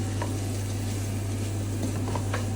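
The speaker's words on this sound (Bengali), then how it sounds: "এখন এই চালটা ঝনঝন করা শব্দ না হওয়া পর্যন্ত ভেজে নেব" Soaked rice frying with masala for chicken biryani produces a continuous close sizzle with soft stirring rustles. A steady low hum runs underneath and no one speaks.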